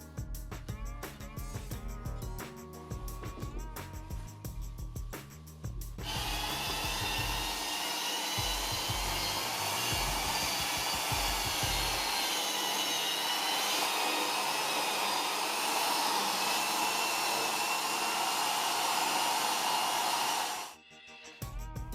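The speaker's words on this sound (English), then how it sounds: "Then it's time to polish the patch." A power polisher buffs a repaired ding patch on a surfboard after 1200 grit sanding, running as a loud, steady whine for about fifteen seconds, then cutting off abruptly. Scattered handling noises come before it.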